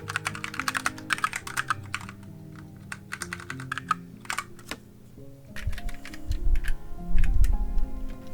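Fingers type quickly on a computer keyboard while writing, a close, dense clatter of key clicks in bursts over a soft background hum, with a low thump near the end.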